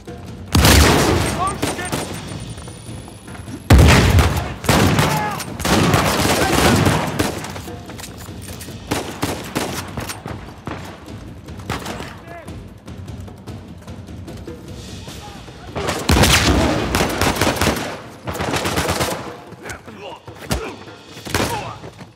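Bursts of gunfire in the Uncharted 4 plane-escape sequence, heavy rapid volleys and thudding impacts clustered in several loud stretches, separated by quieter gaps.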